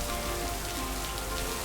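Steady rain falls in the video game Lake, a dense, even patter of drops on surfaces that holds at a constant level for the whole moment, with no voices.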